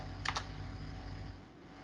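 A couple of quick, faint keystrokes on a computer keyboard, close by, followed by quiet room tone.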